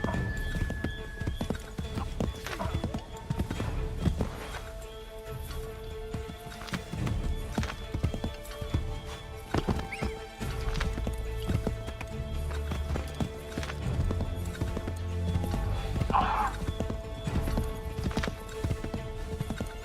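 Horse galloping in Assassin's Creed 3, a steady rapid clip-clop of hooves running for the whole stretch, with an occasional whinny over in-game ambience.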